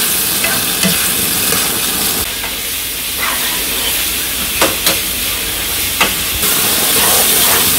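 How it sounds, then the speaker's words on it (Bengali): Fried potatoes and tomatoes being sautéed and stirred in a pan for a village-style egg dish, a loud steady sizzle and hiss with intermittent scraping clicks of a spatula, close up. "ভেজে রাখা আলুগুলো দিয়ে দিলাম, এখন আর কিছু দিব না, এখন ভালো করে কষাবো"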